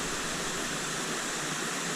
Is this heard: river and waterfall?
yes